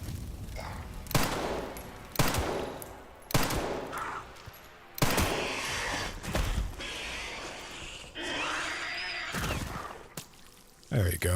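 Video game gunfire in Resident Evil Requiem: several loud, separate bursts of shots spaced a second or two apart, each decaying into a rattling tail, with quieter stretches of game ambience between them.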